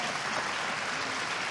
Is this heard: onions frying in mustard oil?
no